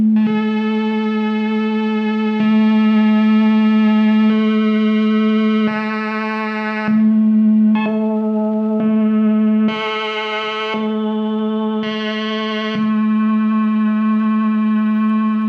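A sustained synthesizer tone holds one pitch while its timbre jumps every second or two, shifting between brighter, buzzier and thinner waveforms.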